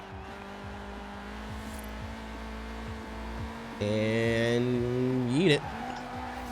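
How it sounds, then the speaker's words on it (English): A Nissan 240SX drift car in Forza runs a steady engine drone, then jumps to a louder high-revving howl that bounces off the rev limiter before dropping away, with someone talking over the start. "Bouncing off the limiter there a little bit. Just holding throttle down."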